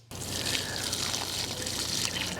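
Water pours steadily onto a newly planted shrub in a garden orchard, a continuous close splashing trickle that starts abruptly and holds even.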